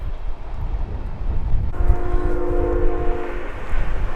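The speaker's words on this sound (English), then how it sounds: "a train just so happens to come by" A train passes at the site of the West's first train robbery in Iowa, a steady rumble with a sustained multi-tone horn sounding from about the middle of the moment onward, outdoors and fairly close.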